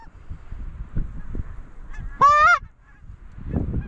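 Specklebelly geese, also called white-fronted geese, give a single clear honk while flying in on a windy afternoon hunt, standing out sharply over low wind rumble and faint background noise.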